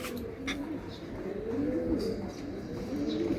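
Giribaz pigeons coo in low, repeated rolling calls, several overlapping up close, with faint chirps and handling noise in a farm loft.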